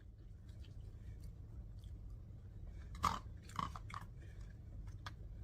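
Someone chews a big piece of chicken, soft wet mastication under a low room hum, with two sharper crunchy bites standing out midway, close and fairly quiet.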